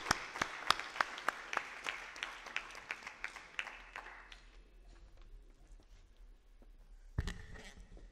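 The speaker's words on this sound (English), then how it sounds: "Give him a good round of applause." Scattered audience clapping at a formal evening keynote event, sparse loud individual claps near the mic over a faint applause wash that dies away, then a short thump.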